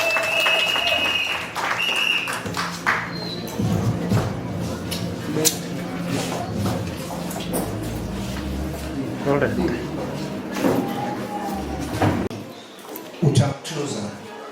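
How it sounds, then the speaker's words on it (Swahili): Wedding guests applauding during a church ceremony for the bride and groom, a moderate ripple of clapping across the room with voices talking over it. "tuwapigie makofi"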